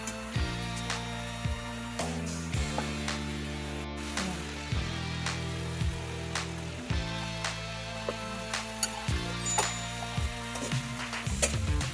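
Spices stirred and fried with vegetables in a pan for a rohu fish and potato curry, a steady sizzle with regular scraping spatula strokes against the pan, close and clear.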